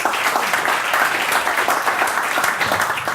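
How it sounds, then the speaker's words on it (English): An audience at a startup pitch event breaks into applause, a dense, even wash of clapping that stays steady and fairly loud for a few seconds with no talk. "Have a big round of applause."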